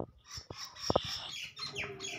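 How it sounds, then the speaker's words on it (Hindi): Birds that have come into a veranda, with faint chirps and fowl-like clucks and calls scattered over a couple of seconds at a moderate distance, with no talk. "ये देखिए माशाल्लाह परिंदे जो हैं वो बरामदे के अंदर आकर हमसे चीज़ें मांग रहे हैं।"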